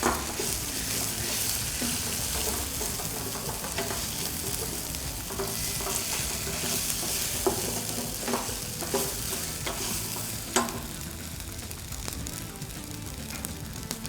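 Ginger-garlic paste fries in a pan with a constant crackling sizzle, while a spoon stirs and scrapes against the metal throughout. There is no talk.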